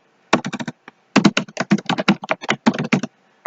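Java code being typed on a computer keyboard: close, loud bursts of rapid key clicks in quick runs separated by short pauses, with no voice.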